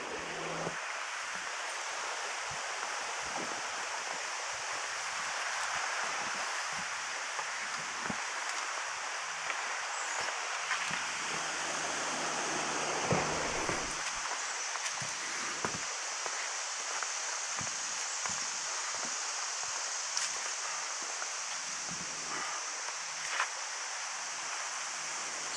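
The Little Miami River flows below a bridge in John Bryan State Park in late summer, a steady, soft broadband wash of moving water that continues unbroken throughout.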